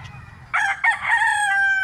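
A white Kelso stag rooster crows once, close and loud, with a strained, drawn-out call that holds a steady pitch before trailing off, preceded by a faint low rumble.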